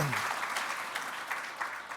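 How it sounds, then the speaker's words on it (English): An audience claps at a guided roundtable conversation event, a short, even burst of applause filling the room at moderate loudness. "Big round of applause."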